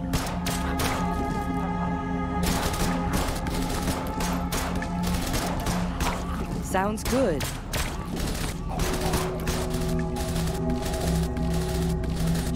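Rapid gunfire from the zombie strategy game They Are Billions, bursts of sharp repeated shots over tonal game music, with brief unit voice lines in between.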